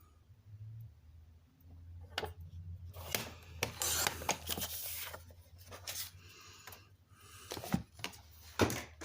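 A paper trimmer cuts through card stock, its blade rasping and scraping in several short strokes with small clicks and handling noises in a quiet room.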